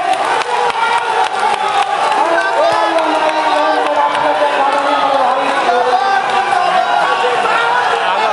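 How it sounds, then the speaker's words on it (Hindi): A large crowd at a political workers' rally roars continuously, with cheering, whoops and shouted voices forming a loud, sustained wall of noise as a speaker is welcomed. "आप लोग जोरदार तालियों से उनका स्वागत कीजिए।"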